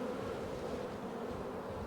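Honey bees from a strong colony hum steadily at an open hive, a dense, continuous drone of many wings holding close and even throughout, with no voices.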